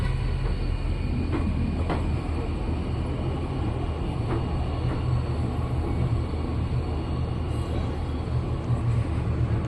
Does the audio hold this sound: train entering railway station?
yes